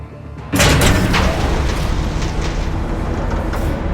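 A Skyrail train in a Batman video game starts with a sudden loud rumbling boom, then keeps up a dense, steady mechanical roar and rattle.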